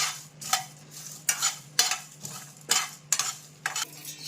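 Coriander and fennel seeds roasting briefly in a pan alongside whole spices, heard as rhythmic spatula stirring strokes about twice a second over a light sizzle, close and clear.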